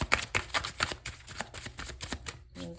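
Tarot cards are shuffled by hand in a quick series of soft, crisp riffling bursts, close and quiet, with no talking over them.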